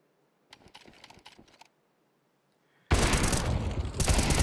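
Counter-Strike gunfire at Overpass during a pro match, a spray of automatic shots: faint scattered bursts early, then a loud dense sustained volley from about the midpoint to the end.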